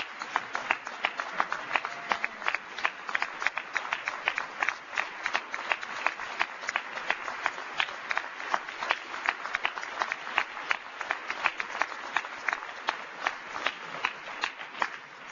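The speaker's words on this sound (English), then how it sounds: "Would you all give Shirley Dobson another big round of applause" An audience at a faith and freedom coalition speech gives a warm round of applause, dense continuous clapping from many hands, even and sustained for about fifteen seconds with slightly muffled, distant tone.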